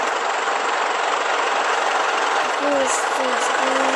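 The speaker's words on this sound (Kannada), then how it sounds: "ಸರಿ ಇವಾಗ ಇಂಜಿನ್ ಸೌಂಡ್ ಕೇಳೋಣ" Constant droning bus engine idle in a video game mod, loud and steady, with a few faint tonal chirps toward the end.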